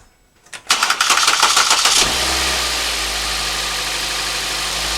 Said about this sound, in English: what I'm going to do now is I'm going to start the vehicle